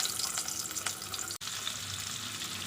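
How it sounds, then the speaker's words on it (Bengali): Eggs frying in hot white oil, with a steady crackling sizzle throughout and one brief dropout near the middle. "তেল গরম হয়ে গেছে এখন ডিমগুলোকে দিয়ে দিচ্ছি"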